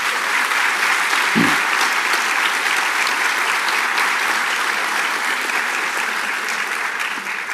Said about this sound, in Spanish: un aplauso para ellos y muchas gracias por venir.